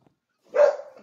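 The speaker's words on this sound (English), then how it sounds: "Okay, my dog's going crazy." A dog gives a single short bark nearby, loud and sudden after near silence, with no talking.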